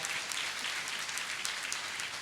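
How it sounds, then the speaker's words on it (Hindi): An audience at a motivational session for JEE/NEET exam aspirants breaks into loud applause, a dense, continuous wash of clapping filling the whole short stretch. "क्या बात है, जोरदार तालियां एक बार।"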